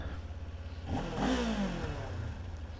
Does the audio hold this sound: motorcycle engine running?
yes